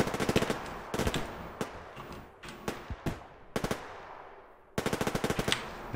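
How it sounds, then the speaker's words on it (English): Automatic gunfire in the post-apocalyptic shooter Survarium, loud rapid bursts of shots with short gaps between volleys, close and dense, no voices. "I see you shooting, man."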